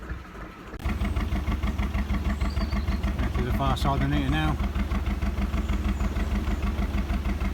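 A narrowboat engine runs at higher revs in the rain, a steady close, pulsing mechanical chug throughout, with someone talking over it.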